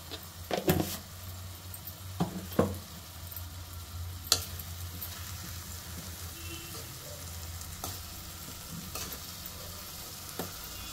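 A spoon stirs spring onion and tomato curry in a pan, with a soft continuous sizzle under occasional utensil scrapes and clinks against the pan, fairly quiet and without speech.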